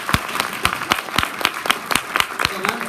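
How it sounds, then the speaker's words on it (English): An audience at an ICT conference session claps in a brisk, fairly regular rhythm, individual claps standing out clearly and close in a lively, moderately loud burst. "Give them an applause."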